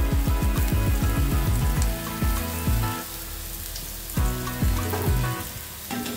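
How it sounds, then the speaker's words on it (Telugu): Finely chopped green chillies tossed and fried in hot oil for street-style gobi fried rice cooked at home. A loud continuous sizzle runs throughout, broken by repeated metallic clanks and scrapes of the utensil against the pan. "సో ఇవన్నీ నూనెలో బాగా ఫ్రై అయ్యేలాగా బాగా టాస్ చేసుకుంటూ వేయించుకోవాలి."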